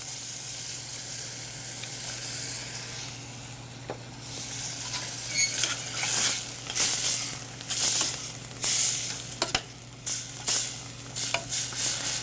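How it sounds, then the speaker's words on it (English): Whole chopped San Marzano tomatoes go into a pork ragu in a hot pan, giving a loud, close sizzle and bubbling with stirring scrapes that build after a quiet start and run in waves, with no talking. "Next we're going to add some whole chopped tomatoes."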